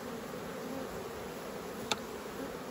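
Honeybees buzzing around an open hive being worked, a steady close swarm drone with one brief louder pass near the microphone.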